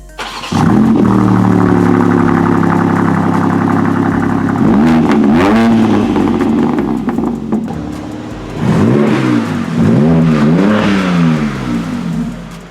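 A modified BMW M4 Competition engine cranks and fires up loudly on a cold start with exhaust valves open, settling into a steady rumbling idle, then rising in a couple of sharp revs through the exhaust.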